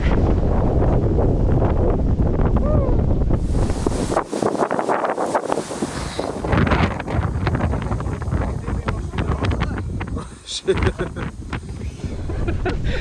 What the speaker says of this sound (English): It's windy out here today, isn't it?